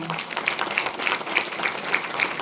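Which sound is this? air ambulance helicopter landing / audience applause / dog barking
audience applause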